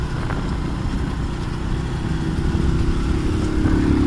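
A motorbike climbing a mountain road, its engine droning loud and close with a steady low rumble that builds slightly toward the end.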